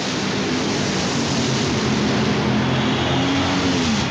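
Drag racing cars from 1992 at the NHRA Winternationals roar down the strip with a loud, sustained engine blast that stays constant throughout, with no pauses and no voices.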